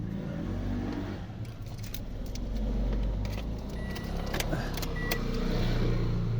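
A car engine starts and settles into a running rumble just after an automatic transmission fluid change, with clicks and small mechanical sounds over the low drone.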